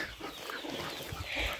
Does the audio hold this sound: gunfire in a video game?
no